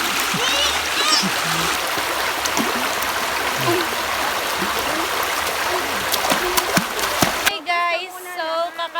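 River water rushes and splashes steadily and loudly at a river in Barangay Sumucab, Cavinti, Laguna, with faint voices mixed in, before the sound cuts abruptly to a few brief cries.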